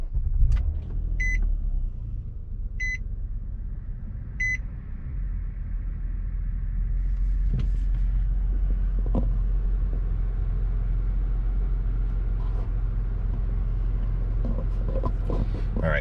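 Inside a 2020 Nissan Maxima, three short chimes sound during the startup sequence, then the engine settles into a steady low idle rumble with a few faint clicks.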